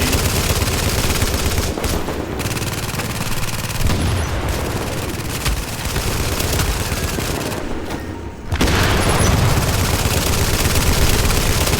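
Sustained light machine gun fire in The Division, a dense, continuous roar of rapid shots with brief pauses, loud and close, filling the whole stretch without voices.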